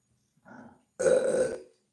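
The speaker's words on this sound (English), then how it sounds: "pardon my belching" A person lets out a loud, close burp lasting under a second, just after a shorter, softer throaty sound.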